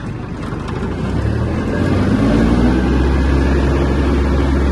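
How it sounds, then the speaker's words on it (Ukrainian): An Iseki TK-25 Japanese mini tractor accelerating in fourth gear, its engine a loud, close, steady drone that swells slightly and then holds, with no talking. "Трактор миттєво набирає свою максимальну швидкість."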